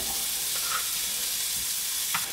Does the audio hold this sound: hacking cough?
no